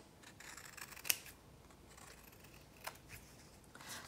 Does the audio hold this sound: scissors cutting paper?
yes